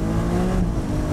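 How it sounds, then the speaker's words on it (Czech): Ferrari's big naturally aspirated engine roaring under full throttle, a dense mechanical howl heard close and loud throughout a brief burst, with no talking. "tak tam opravdu slyšíte takový ten mechanický, frenetický řev toho atmosférického velkého motoru"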